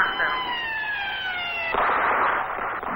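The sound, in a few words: ambulance siren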